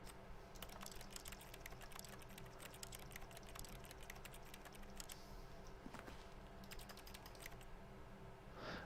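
Steady keyboard clicking in The Stanley Parable, a quiet continuous patter of key taps at an even rhythm, faint and close, with no voices.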